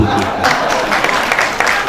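Audience at a state official-language commission convention applauding, a dense burst of hand claps mixed with crowd noise and shouts, loud and continuous, heard close.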